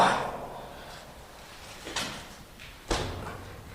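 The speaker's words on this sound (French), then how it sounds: "On va la fermer. Oh, le poids de la porte." A heavy door fitted with three bolts is swung shut inside an abandoned fort: a scraping start followed by two separate dull thuds from the door and its bolts, echoing in a quiet space.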